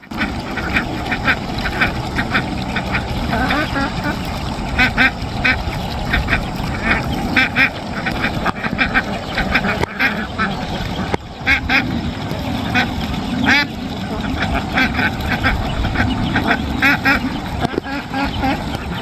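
Mother ducks quack steadily by a farm pond in a dense, continuous chorus of nearby calls that goes on for the whole stretch.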